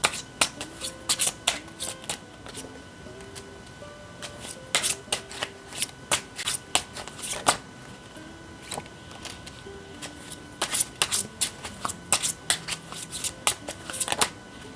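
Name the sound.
tarot cards being shuffled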